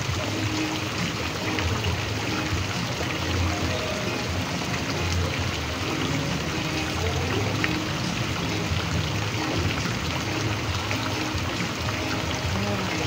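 Continuous rushing and gurgling of flowing water, steady and fairly close, with faint voices now and then beneath it.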